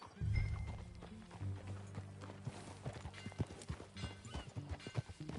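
A horse's hooves clip-clop steadily during riding in the video game Red Dead Redemption 2, with quiet irregular hoof strikes and a soft snort-like sound near the start, alone and fairly faint.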